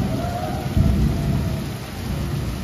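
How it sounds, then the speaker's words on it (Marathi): Heavy rain pours steadily during a thunderstorm, with a deep rolling rumble of thunder swelling near the start and a dense broadband hiss throughout, loud and continuous with no talking. "मी तर असा पाऊस पहिल्यांदा बघते."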